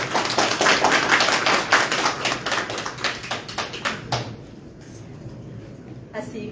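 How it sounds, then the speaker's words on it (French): Applause at the official opening of a conference at an international crafts fair. A hall of people claps steadily for about four seconds, then the clapping fades into quiet room noise. "Sous vos applaudissements."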